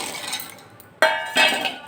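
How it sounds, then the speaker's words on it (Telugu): Peanuts rattle into a mixer jar in two quick bursts, with a bright clattering against the sides. "ఒక మిక్సీ జార్ అయితే తీసుకొని అందులో ఫస్ట్ పల్లీలు అయితే వేసుకోవాలండి"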